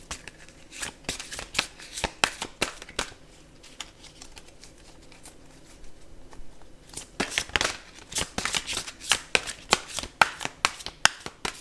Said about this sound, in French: Et moi je vais tirer une carte ici.